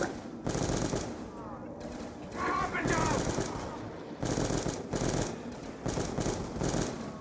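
Automatic gunfire in Call of Duty Black Ops 2 Zombies with a Pack-a-Punched weapon, rapid sustained bursts separated by short pauses, loud and close, with voices talking faintly in places.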